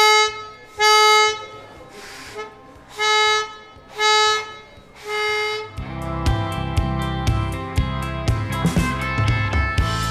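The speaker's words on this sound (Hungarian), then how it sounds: "és még a posta kürtöt is meg lehetett szólaltatni" An old postal horn at a post office heritage display gives about four loud sustained toots with pauses, followed by instrumental band music.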